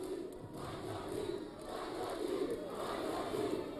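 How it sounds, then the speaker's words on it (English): A boxing arena crowd roars for a hometown fighter in a Mandonga versus Wanyonyi bout, a steady loud mass of cheering and shouting that swells and holds for the whole stretch. "The crowd is going wild for their homegrown son."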